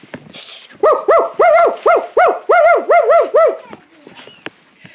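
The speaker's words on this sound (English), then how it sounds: "Little dog Turpie barks so loud, he disturbs my sleep" A dog barking in a read-aloud children's story, heard as a run of about eight loud, tonal, rhythmic barks or yelps in quick succession, close and clear, with no talking over them.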